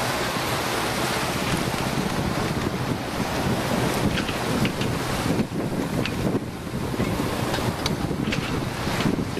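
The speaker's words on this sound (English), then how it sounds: "the current is coming out of the Cape Cod Canal, and it's against the opposite wind coming from Buzzards Bay" Strong wind and choppy waves where the Cape Cod Canal current meets opposing wind from Buzzards Bay, heard from a boat as a loud, constant roar of surf and buffeting wind noise against the microphone.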